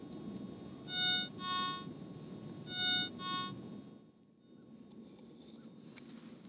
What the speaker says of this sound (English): Small or weak signals sound faint.